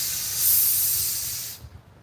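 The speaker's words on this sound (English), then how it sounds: "Oh, here's the hose." A garden hose sprays water in a loud, steady hiss that swells briefly and then cuts off abruptly, leaving quiet outdoor background.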